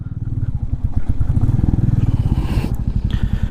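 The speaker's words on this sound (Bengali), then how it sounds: "একদম কাদা ভর্তি, চাকা স্কিড করছে।" A motorcycle struggles along a muddy mountain road in North Sikkim with its wheels skidding. The engine is loud and close, chugging in a rapid, pulsing rhythm, with some scraping and rattle toward the end.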